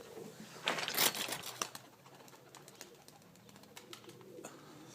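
An Iraqi Basrawi pigeon is tossed into the air, with a sudden loud flurry of flapping wings followed by lighter, scattered wingbeats fading over several seconds. No one speaks.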